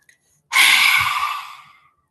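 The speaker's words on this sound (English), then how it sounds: "we're going to stick our tongue out and we're going to do a little mini roar" One breathy exhale with the tongue out, a soft mini roar done as a breathing exercise for stress release, starting abruptly after a faint inhale and trailing off over about a second and a half, close and alone.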